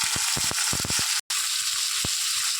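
Prawns and salt hit hot oil and sizzle in a loud, steady hiss, broken by a few low knocks and one brief moment of silence before the frying resumes.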